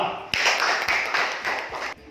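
A short burst of clapping from a group of children in an elementary school classroom, dense and fairly close, swelling and fading in waves over about two seconds.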